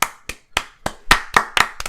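Several people clap for an arriving guest at a casual meetup, a short burst of about eight sharp, loud claps in a quick irregular rhythm, close by, with no voices.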